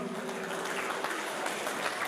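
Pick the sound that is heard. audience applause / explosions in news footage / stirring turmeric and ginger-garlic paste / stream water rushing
audience applause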